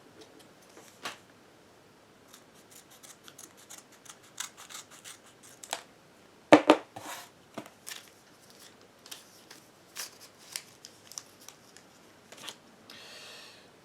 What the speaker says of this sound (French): on va faire donc une nouvelle ouverture de paquets